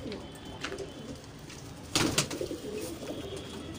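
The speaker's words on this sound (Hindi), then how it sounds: "ये कबूतरी है भाई," A female pigeon with an orange mark on its feathers gives soft, low cooing, faint at first and then a somewhat louder burst of cooing with a slight rustle.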